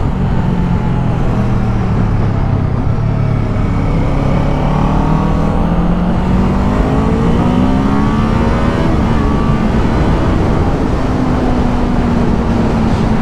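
A Kawasaki Ninja 7 Hybrid motorcycle engine hums and rises in pitch as it accelerates through gears, close and steady, with no voices.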